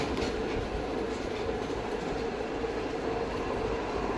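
A train rolls past with a steady rumble and rhythmic clatter of wheels on rails, fairly close and continuous, with no voices.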